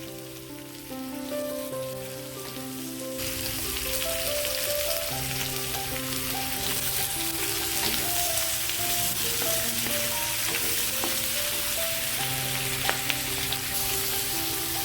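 Chopped tomatoes and capsicum hit a hot pan for dry chilli chicken, setting off a loud, steady sizzle that fills the whole stretch, with a faint melodic background under it.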